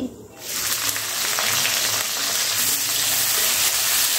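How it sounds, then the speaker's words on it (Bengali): Chopped onions frying in hot oil for a home-style chicken kosha, a steady broadband sizzle that starts after a brief quiet moment and holds loud and close with faint stirring underneath. "পেঁয়াজটা দিয়ে একটু লাল করে ভেজে নিতে হবে"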